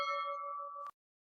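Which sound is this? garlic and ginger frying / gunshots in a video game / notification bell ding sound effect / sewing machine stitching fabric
notification bell ding sound effect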